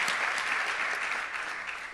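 A church congregation bursts into applause during a sermon, a thick, steady wash of many hands clapping at once, heard briefly and without voices over it.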